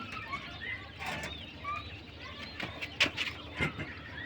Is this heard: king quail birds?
yes